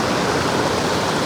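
Water in a stream at the Ilsetal flows toward a branch, giving a steady, dense rushing babble close by, continuous and without voices.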